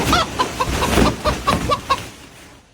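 A chicken clucks in a quick, uneven series of short, fairly loud calls close by, trailing off into quiet after about two seconds.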